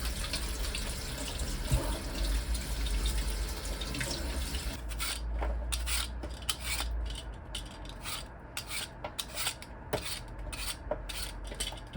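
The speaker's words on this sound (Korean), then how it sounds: "연근 씻을 때 흙 묻은 거 자르지 마시고 먼저 씻으세요" Muddy whole lotus root scrubbed under running tap water, a continuous water stream at first, then rough rasping rubs and scrapes in an irregular rhythm, close and clear with no talk.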